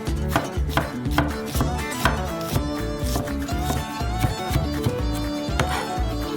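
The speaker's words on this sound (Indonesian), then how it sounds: "Cincang hajus bawang merah ini." Shallots being finely chopped with a knife on a cutting board, a rapid steady run of sharp taps, loud and close over a backdrop of music.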